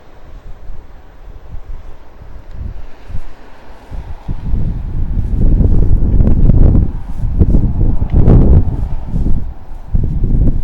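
Wind gusts roar across the microphone at a Hawaii sunrise spot, starting lighter and building into loud, sustained buffeting with rushing rumbles, no voices heard.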